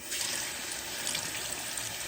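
Tap water runs in a steady, close, hissing stream over two cups of rice in a strainer for Mexican rice, a continuous splashing flow with no voices.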